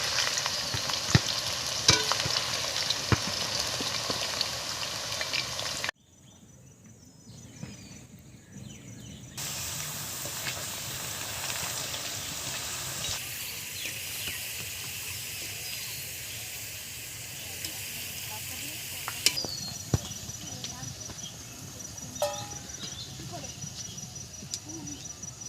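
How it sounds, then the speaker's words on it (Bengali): Grated potatoes frying in hot oil for chips, a steady close hiss and sizzle throughout, briefly dropping out near the start and returning with occasional stirring clicks. "এই জন্য আমি এখনই আলুগুলো ভেজে নিচ্ছি।"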